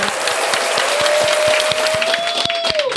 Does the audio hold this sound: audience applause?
yes